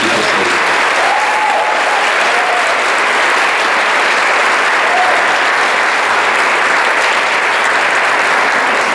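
Sustained, dense applause from an audience at a Puerto Rico church anniversary celebration, loud and steady across the whole stretch with no pauses.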